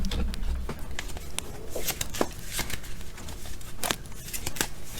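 Tarot cards are shuffled and drawn close by, producing rapid crisp riffles, flicks and light slaps in irregular bursts over a soft background.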